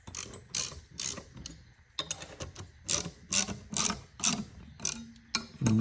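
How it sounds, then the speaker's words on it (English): Repeated ratchet clicks from bolts being tightened by hand on a Toyota differential, coming in short bursts of metallic ratcheting at a close, steady working pace with brief pauses between strokes. "I need to tighten these bolts down."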